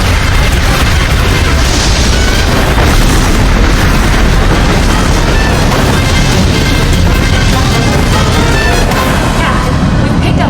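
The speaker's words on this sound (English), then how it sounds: "All ships open fire." In an anime space battle, a fleet of spaceships opens fire in a loud, unbroken barrage of booms and explosions that runs the whole time with no clear gaps.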